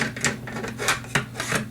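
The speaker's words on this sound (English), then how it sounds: "we want to go ahead and put our bolt carrier group back in" Bolt carrier group of a Bushmaster ACR rifle sliding back into the receiver, giving a series of close scraping metal rubs and light clicks over nearly two seconds, with no talking.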